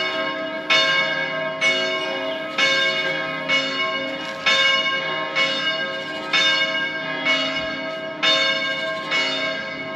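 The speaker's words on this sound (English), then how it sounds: "There's just something about the ringing of church bells. That was the noonday bell" Church bell in Kotor, Montenegro tolling the noonday hour, about ten evenly spaced ringing strikes with long overlapping resonance, clear and fairly close with no talk.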